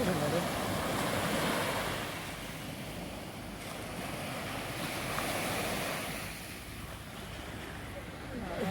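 Sea waves wash onto the shore beside a seaside restaurant at night, a broad surging roar that swells and recedes in slow cycles, mixed with wind noise and distant background voices.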